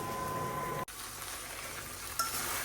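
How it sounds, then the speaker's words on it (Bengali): Prawns for a malai curry fry with spices in a pan, giving a dense, even sizzle. A steady tone cuts off early, and the hiss continues alone with a brief clink near the end. "এই যে এখন একটু মাছটারে মশলার সহকারে বাস একটু ভাজা করে নিই তারপরে ঝোলটা দিই"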